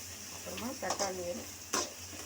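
Tomatoes added to onions sautéing in a kadai with turmeric and salt, a steady close sizzle with brief stirring scrapes and a couple of sharper clinks.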